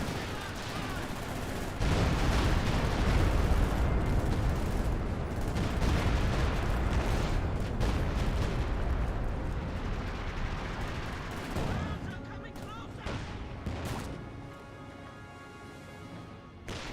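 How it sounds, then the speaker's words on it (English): A 20 centimeter rocket barrage in Company of Heroes 2 pounds away as a dense, sustained roar of overlapping blasts and crackling impacts lasting well over ten seconds, then tapers off, with a commentator talking over the battle. "Another 20 centimeter rocket barrage."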